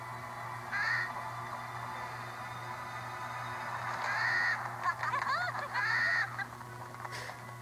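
A bird caws in the LEGO Harry Potter video game, three short nasal calls spaced a few seconds apart over a low steady game hum.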